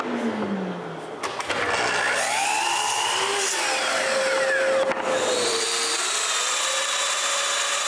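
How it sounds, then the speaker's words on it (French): Short pieces of wood being cut with a power tool, a continuous loud whine that shifts in pitch as the blade works through the wood, steady and close throughout with no speech. "je coupe de courts bouts de bois"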